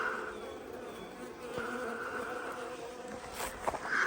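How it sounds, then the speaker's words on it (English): Honeybees dusted white with oxalic acid fly out of a hive, a close, steady buzzing drone lasting throughout with occasional louder passes of individual bees near the microphone. "Nice white bees coming out the hive."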